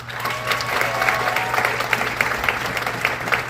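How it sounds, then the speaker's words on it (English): A crowd in a bar gives a birthday girl a round of applause, brisk, fairly loud clapping over a low steady hum, with a few voices mixed faintly underneath. "One round of applause for Ann, y'all."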